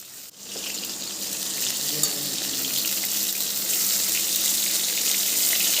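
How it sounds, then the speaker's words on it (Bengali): Eggplant pieces frying in oil in a wok, turned over while they brown, make a steady close hiss of sizzling oil that holds continuously and grows slightly louder. "উল্টে পাল্টে বেগুনগুলোকে এবার লাল লাল করে ভেজে নিচ্ছি"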